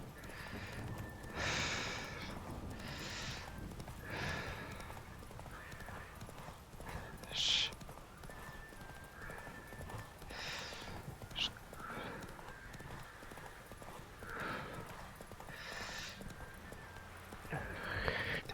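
A horse gallops in The Witcher 3: Wild Hunt, steady clip-clop hoofbeats with a whinny and snorts, while a person talks and music plays over it throughout.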